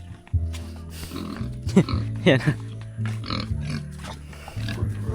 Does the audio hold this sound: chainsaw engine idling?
no